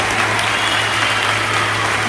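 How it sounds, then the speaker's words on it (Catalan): Dense audience applause at a school end-of-year festival, loud and steady clapping from many hands filling the whole stretch without voices. "Un aplaudiment per la professora de física, Marisa Casas"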